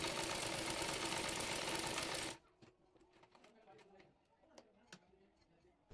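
Sewing machine stitching a blouse sleeve runs fast and steady for just over two seconds, a loud dense whir, then stops, leaving scattered clicks and handling taps; a voice talks quietly.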